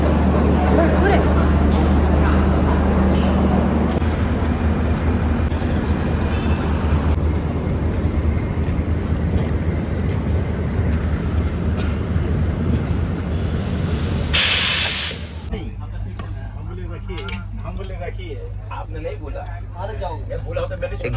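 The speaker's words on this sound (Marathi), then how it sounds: "एक्झॅक्ट टाईमला निघालेली आहे ट्रेन" A train departing, with a loud steady rumble and hiss of rolling stock that drops abruptly midway to a quieter hum, people talking over it.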